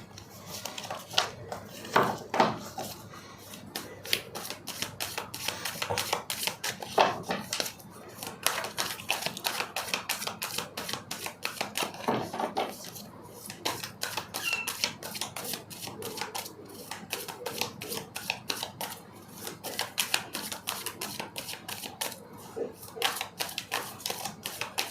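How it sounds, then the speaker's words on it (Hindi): Tarot cards being shuffled, a long run of quick, faint flicking and riffling clicks that continues steadily for about twenty-five seconds, close and quiet with no talk over it. "ये तो बहुत सारे कार्ड्स हैं, फिर से शफल करेंगे हम।"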